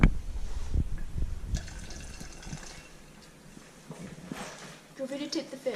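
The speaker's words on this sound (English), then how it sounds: "I'm going to pour this fresh water that we have left here." Fresh water poured into a freshly cleaned fish tank, a steady splashing trickle with a few sharp drips and knocks, close and moderately loud, a person briefly talking near the end.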